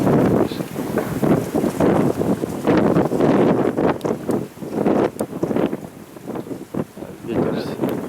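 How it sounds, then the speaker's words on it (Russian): Strong gusty wind outdoors among birch trees, loud rushing and buffeting that rises and falls in gusts, with occasional rustling. "Ветер."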